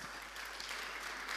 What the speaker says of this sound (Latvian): Jā, šitie aplausi Kristīnai.